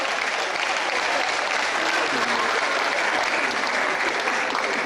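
Steady audience applause for academic staff at a university learning institute seminar in Lagos, dense and continuous throughout, filling the hall at a constant level.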